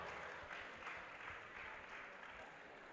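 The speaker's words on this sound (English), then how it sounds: "A big round of applause" Brief, fairly faint audience applause at a school civic education debate, a steady wash of clapping with no voices.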